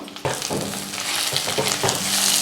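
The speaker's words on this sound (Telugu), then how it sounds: "ఒకసారి కలుపుకొని ఒక్క రెండు నిమిషాలు ఉడకనివ్వాలి" Vegetables and green peas sizzle in a hot pan for jowar upma while a spoon stirs them, a steady loud frying hiss broken by close scraping strokes, with no voices.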